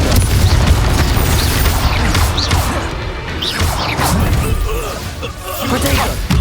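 A Confringo fire-blast spell exploding in Hogwarts Legacy, dense loud crashes, whooshes and booms in continuous combat, close and heavy, with voices shouting over the fight.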